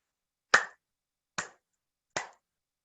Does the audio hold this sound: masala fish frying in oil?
no